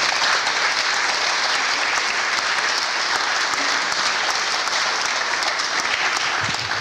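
A hall audience at a town hall education forum applauds to welcome Dr. John Chubb, with dense, steady clapping from a large crowd that holds level throughout.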